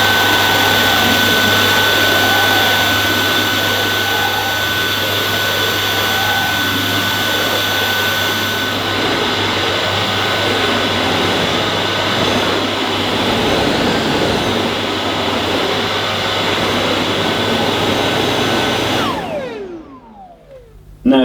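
A Dyson Ball DC49 compact vacuum cleaner runs steadily on short pile carpet, a loud constant whine and whoosh with a high tone that holds for about twenty seconds, then winds down as the motor is switched off.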